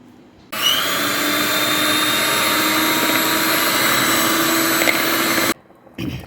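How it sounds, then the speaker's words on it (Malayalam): An electric beater whips cream for a fruit sandwich, switching on abruptly and running at a loud, steady high-pitched whir for about five seconds before cutting off, followed by a brief faint clatter. "വിപ്പിംഗ് ക്രീം ഒന്ന് ബീറ്റ് ചെയ്ത് എടുക്കാം."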